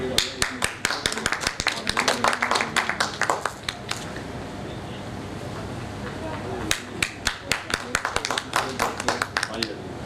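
Crowd clapping at a party founding event, bursts of sharp claps at the start that fade into a lull with a voice talking, then another round of applause near the end.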